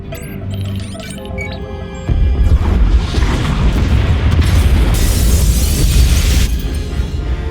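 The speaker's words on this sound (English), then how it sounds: "Pod bays are destroyed." Pod bays blow apart in a massive sci-fi explosion in the Star Wars: The Old Republic game; a low rumbling boom erupts two seconds in and keeps roaring, with crackling debris, until the end.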